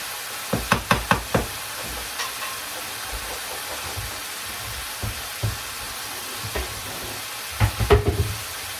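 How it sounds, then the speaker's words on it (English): Potatoes frying in a pot with a steady sizzle, broken by a burst of knocking spoon-against-pot stirring strokes near the start and again near the end, plus a few scattered clinks in between, close and fairly loud with no talking. "So you put the potatoes in the pot. And you stir that"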